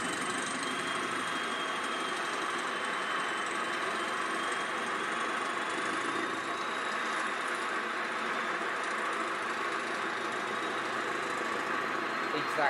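Steady diesel engine drone of an Irish Thumper train, a constant moderate rumble running throughout with no clear changes.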